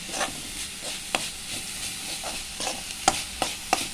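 Sambar cheera greens frying in a pan, a steady hiss of sizzling oil broken by sharp scraping knocks as a spoon stirs and tosses them at irregular intervals.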